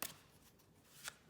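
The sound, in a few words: shuffling a deck of tarot cards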